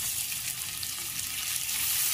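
Chopped garlic and onion fry in a pan with cinnamon, cloves and green cardamom, giving a steady, even sizzle that holds close and constant with no talk over it.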